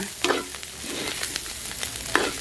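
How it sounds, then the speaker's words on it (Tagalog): Beef sautéing in a pan for dinuguang baka with bay leaf hisses in a steady sizzle, broken by scraping stir strokes and a few sharp pops, close and moderately loud, with no voices. "pagkatapos natin maigisa ng mabuti, sumisirit-sirit na"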